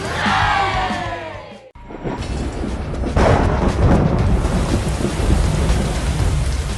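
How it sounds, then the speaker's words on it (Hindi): Heavy rain pours onto quiet suburban streets in a loud, steady hiss, broken by a sharp crack and rolling rumble of nearby thunder. "शांत उपनगरीय गलियों में बारिश की फुहारें गिर रही है"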